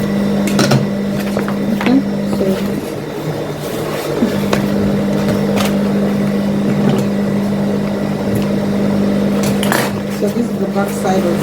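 A sewing machine stitches an afrocentric souvenir bag, a steady mechanical hum running close by, briefly pausing, with fabric handling and a voice talking over it.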